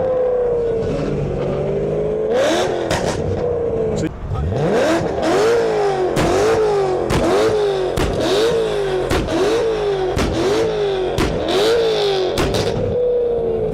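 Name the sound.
BMW car engine revving loudly at car event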